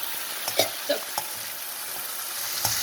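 Chana masala spices fry in oil over a high flame with a steady close sizzle, broken by a few brief stirring scrapes and clinks.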